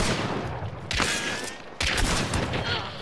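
Gunfire in the video game Hunt: Showdown, with loud broadband bursts of shots and a sustained crackle of several rapid reports near the listener, swelling twice over a constant noisy background.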